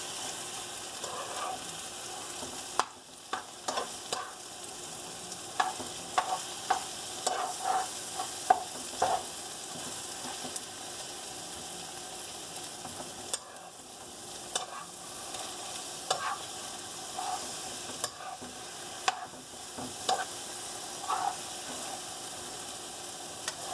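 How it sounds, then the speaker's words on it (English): An egg omelette with vegetables fries crisp in a pan while being stirred, a continuous quiet sizzle broken by frequent sharp scraping and tapping strokes in irregular bursts, close up, with no voices. "I like my egg kind of crispy, so I have to stir one at a time."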